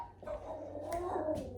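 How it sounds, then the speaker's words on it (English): A small dog barks and yips repeatedly indoors, fairly close, in quick uneven bursts, with a voice talking over parts of it. "No barking."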